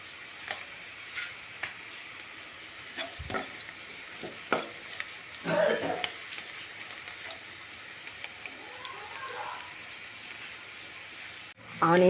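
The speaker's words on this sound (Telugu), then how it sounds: "ఆనియన్స్ గోల్డ్ కలర్ వచ్చేంత వరకు లైట్గా వేగనివ్వాలి." Onions fry lightly with a pinch of salt in a pan for a ridged gourd and tomato curry, giving a soft, steady sizzle with occasional stirring clicks and scrapes. It is moderately quiet throughout, with no speech.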